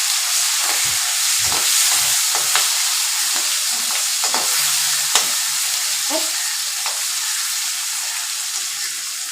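Fish frying in hot oil in a pot, giving a loud, continuous close-up sizzle and crackle with scattered spits and pops throughout; no one talks.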